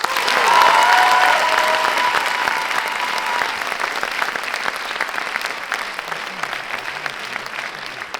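An audience applauds the jury at the final of an inter-high-school eloquence contest in a theatre, loud at first with a brief cheer, then gradually thinning toward the end.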